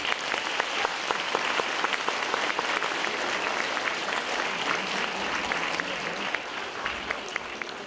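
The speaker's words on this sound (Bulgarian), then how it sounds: "Вашите аплодисменти за господин Йосиф Калпачки." An audience at the 2016 "Glasche-zvanche" children's singing contest in Blagoevgrad applauds a jury member, a dense, sustained patter of many hands that stays steady and full from start to finish with no talk over it.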